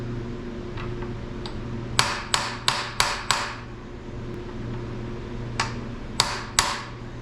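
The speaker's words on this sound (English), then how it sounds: "Guess you just got to hit it harder." Metal hammer blows driving a pilot bushing into a 1955 Chevy, a quick series of sharp ringing strikes close by, five in a row, then a pause and three more.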